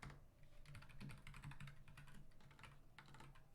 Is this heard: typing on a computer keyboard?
yes